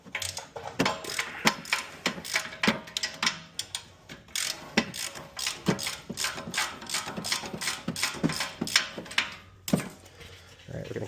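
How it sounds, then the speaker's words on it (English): A ratchet wrench loosening a caliper bracket bolt on a 2010 Audi A4 during a rear brake job, with rapid repeated clicking bursts, close and sharp, and a voice speaking over parts of it. "Let's see if we can get this bottom off here with the wrench or ratchet"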